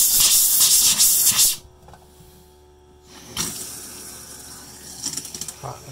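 Bathroom sink faucet in a 2018 Keystone Cougar 22RBS travel trailer, opened during RV winterizing, hisses and sputters loudly with air and water, cuts out briefly, then resumes with spitting bursts close by.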